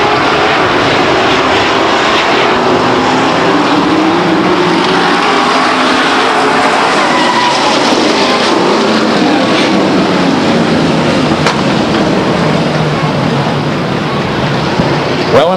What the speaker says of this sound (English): Another spin for the 76 car of Mark Chenet.